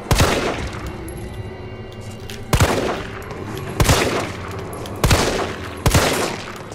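In Resident Evil 3 Remake, a firearm fires five sharp, loud shots at uneven intervals, each cracking over a low, steady game ambience.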